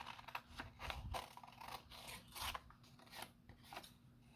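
Scissors snip away excess paper from 4x6 index cards bound as a notebook, a quick run of soft, close crisp cuts and crunches in an uneven rhythm, quiet with no talking.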